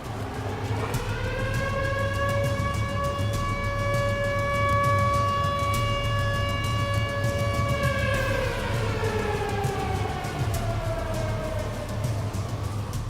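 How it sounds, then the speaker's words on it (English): A loud, sustained tornado warning siren wails on a steady tone, then slowly drops in pitch, with a constant low rumble underneath. "The sirens start going off again for the second time."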